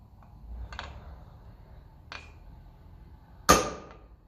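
Hammer striking the aluminium part of a Lucas dynamo from a 1954 Ferguson 20 TEF diesel tractor, a few sharp metallic taps spaced apart, the last one loudest and ringing briefly, close up.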